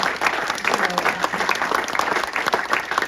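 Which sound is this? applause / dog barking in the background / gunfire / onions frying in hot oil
applause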